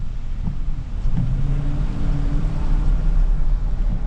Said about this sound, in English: I'm gonna give it a little gas for you here.